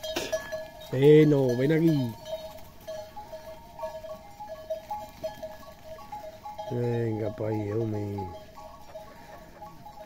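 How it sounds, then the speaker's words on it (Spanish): A flock of sheep is herded out toward the hills, with two bursts of bleating and a faint cowbell clanking behind a man's calls to the animals. "No quieren andar las ovejas, ¿eh?"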